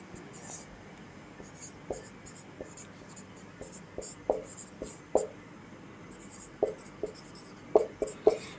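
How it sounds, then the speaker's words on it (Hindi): Handwriting during a Hindi grammar lesson: scattered pen or chalk strokes, sparse at first and then bunching into quick scratchy clusters over a soft, steady room hiss. "इसे मैं लिख ले रही हूँ"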